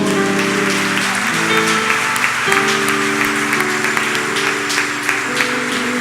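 Church congregation applauding during a worship service, continuous clapping under sustained organ or keyboard chords, steady and fairly loud throughout.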